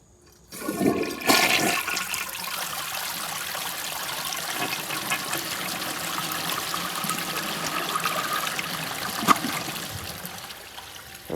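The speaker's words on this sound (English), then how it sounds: "we'll just flush it again at the water level that it was set at" A 1956 Case Camel toilet flushes with a sudden loud rush, then a weak siphon drains the tank quickly into a steady, close trickle and gurgle that fades near the end.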